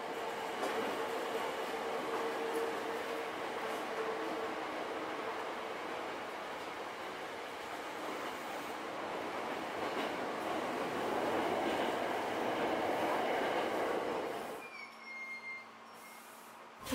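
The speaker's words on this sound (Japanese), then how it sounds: "これは私の場合は大都会の騒音ですね。" Big-city noise with trains passing: a steady, loud rumble of rolling rail cars and a rushing roar that lasts for most of the stretch, then drops abruptly near the end to quieter street hum.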